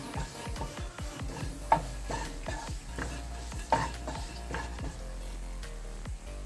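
Garam masala powder being sautéed for a Kerala-style mutton curry: repeated scraping stir strokes in a fairly even rhythm over a constant low sizzle, close by, with no talking.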